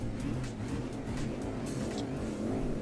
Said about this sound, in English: These trucks are very loud, I should say.